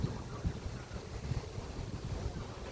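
A light wind blows steadily across the microphone beside the Mekong River in Vietnam, a continuous low buffeting rumble with no voices.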